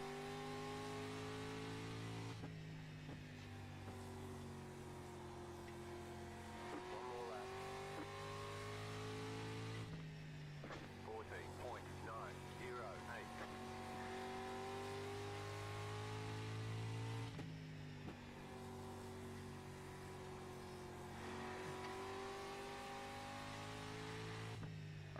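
Street stock race car engine in iRacing at Lanier National Speedway, a video game, drones steadily and revs up and down through gear shifts, loud and continuous without any talk.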